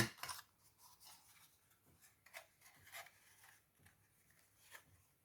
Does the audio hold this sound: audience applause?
no